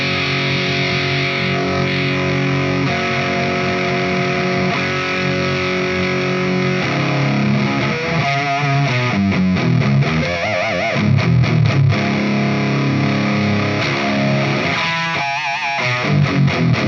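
Electric guitar through a SMIRMOOR SAULE distortion pedal into a clean amp: gritty, saturated chords ring out, then break into choppier strummed bursts and bends. The playing is loud and continuous.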